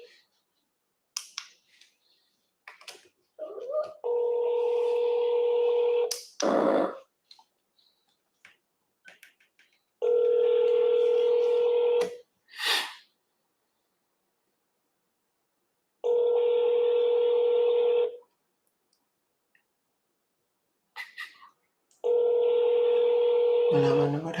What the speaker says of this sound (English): So let me call my friend Mark back.